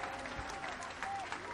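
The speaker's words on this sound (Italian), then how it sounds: "Vedete," Applause from a rally crowd in Rome, a dense wash of clapping heard at a distance and fairly quiet, steady throughout with faint voices mixed in.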